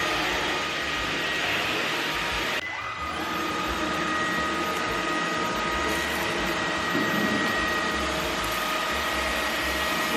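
A new rose gold vacuum cleaner runs with a steady, close whirring drone that holds for the whole stretch, with a brief dip and small mechanical rattles along the way.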